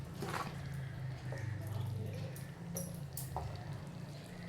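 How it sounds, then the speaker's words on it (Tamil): Thick kurma gravy made with ground masala simmers in a pot, giving soft, scattered bubbling and drips over a steady low kitchen hum. "நல்லா கொதிக்க குழம்பு நல்லா கொஞ்சம் திக்னஸ் வரும்."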